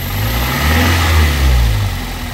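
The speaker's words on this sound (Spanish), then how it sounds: "Voy a darle un acelerón a ver qué pasa." A car engine with a cylinder misfire, diagnostic code P0301 on cylinder 1, is revved up from idle and allowed to settle. It is loud and close, with a rough low rumble and no speech.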